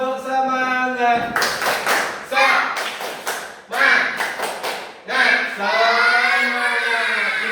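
Children in a class 3 classroom perform a rhythmic clapping chant, bursts of claps in short groups with their chanting voices between, closing on a sustained shouted word.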